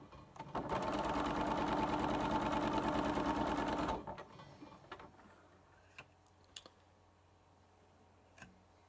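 A sewing machine stitches quilt block pieces along a marked line, running in a loud, steady, rapid whir for about three seconds before stopping, followed by quiet handling clicks and rustles.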